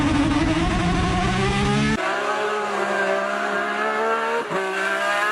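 A BMW 330 Ci engine revs loudly and continuously, its steady harmonic drone rising in pitch, with a sharper change in tone partway through and a brief dip near the end.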